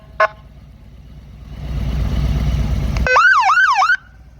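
Police siren on a 2021 Harley-Davidson Electra Glide police motorcycle with a 114 cubic inch engine, a short chirp then about a second of loud wailing sweeps close by over a rising rumble, then cutting off abruptly.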